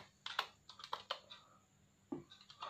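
Short burst of typing on a computer keyboard into a browser settings search box, a quick run of close, light key taps, a brief pause, then a few more keystrokes.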